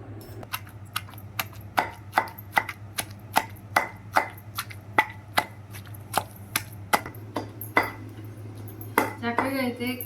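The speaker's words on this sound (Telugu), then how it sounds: "ఇప్పుడైతే ఇంకా రోట్లో వేసేసుకొని దంచేసుకుందామండి" Repeated pounding of tomato and green chili chutney in a stone mortar, about twenty sharp, evenly spaced thuds over a steady low hum, with a brief clatter at the end.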